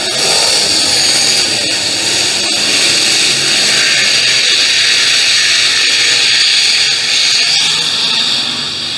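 Super stock race cars charge into the green-flag start of a heat race at Brownstown Speedway, a loud, unbroken roar of engines that fills the scene without a break.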